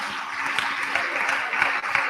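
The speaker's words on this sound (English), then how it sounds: "Now you can clap for her." A brief burst of audience applause, many hands clapping in a dense, steady patter for a couple of seconds.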